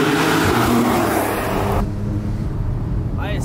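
A Porsche 911 GTS convertible with a turbocharged engine, heard while driving: a steady, fairly muted engine drone and road noise, with the tone shifting partway through.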